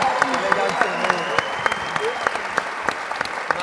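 A room full of people claps for Beatriz's birthday, the dense applause steady throughout with sharp individual claps and whoops standing out.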